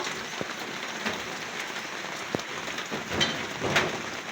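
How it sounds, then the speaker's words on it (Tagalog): Steady rain falls outdoors in the Philippines, a dense even hiss of drops on surfaces with a few sharper taps, continuous and fairly close with no one talking. "Nabutan po kami ng ulan ni Papa Beats"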